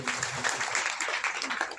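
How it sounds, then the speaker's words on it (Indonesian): A church congregation at a Sunday worship service claps during a sermon, a brief burst of scattered hand claps with some voices mixed in, moderately close and lively. "Saya kasih tepuk tangan dulu."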